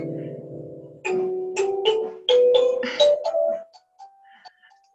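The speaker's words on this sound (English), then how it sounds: "So this is a thumb piano. These are called kalimbas." An amplified kalimba thumb piano picked up through a contact mic plays a short run of plucked, ringing metal tines. The notes are close and clear and fade into a sustained tone and quiet decay.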